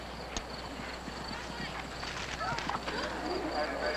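Horse hooves clop rhythmically on the ground at a distance during a 1978 eventing championship cross-country course in Lexington, Kentucky, blended into crowd murmur and a commentator's voice.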